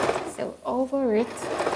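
A sewing machine stitches fabric while sewing a traditional iro and buba garment, a short stretch of its whirring close by with a voice speaking over it.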